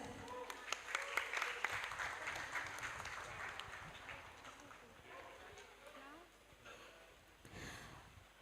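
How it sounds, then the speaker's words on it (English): Attendees of a hybrid multidiscipline academic conference at KH. A. Wahab Hasbullah University applaud a professor's talk, giving fairly faint, scattered clapping that peaks early and then trails off while a speaker talks over it. "once more give applause to Professor Jonathan."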